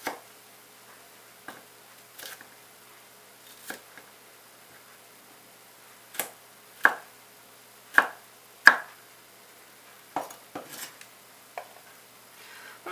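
A knife taps sharply and irregularly on a cutting board while slicing green bell pepper into 1.8 cm pieces, with isolated clear chops separated by quiet pauses.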